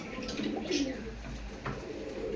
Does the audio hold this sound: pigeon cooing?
yes